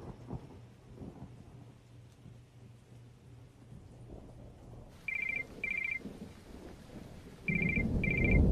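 A telephone ringback tone sounds in short repeated double bursts while a call is being placed, starting partway through after a quiet stretch with a low hum.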